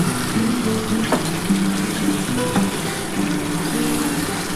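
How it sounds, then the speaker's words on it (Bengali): Sour yogurt going into sizzling chicken masala in a pan, a bubbling, watery sizzle with low gurgles and a sharp tap of a utensil, close and alone. "এবার আমি টক দইটা দিয়ে দেবো"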